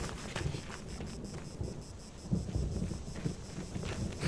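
Thunder from lightning ahead of rain rolls and rumbles in low booming swells with a rain-like hiss overhead, loud and continuous for several seconds with no talking.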